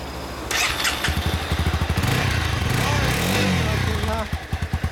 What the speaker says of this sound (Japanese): いや、エンジン音聞かせてもらえるかな。